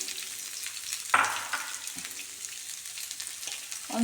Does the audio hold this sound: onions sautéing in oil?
yes